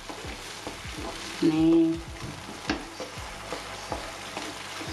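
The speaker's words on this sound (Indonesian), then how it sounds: "Tuh, ini udah meletup-letup atau udah mendidih ya." Minced chicken stir-fries in a pan with long beans, a constant sizzle broken by scraping spatula strokes and a louder burst of bubbling, with a brief spoken word.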